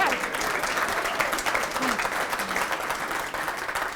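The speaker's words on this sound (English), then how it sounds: "I thought that might get a cheer." Audience applause and cheering at a political party conference, a steady dense crowd noise that holds for the whole stretch at fairly loud level, with a few voices calling out within it.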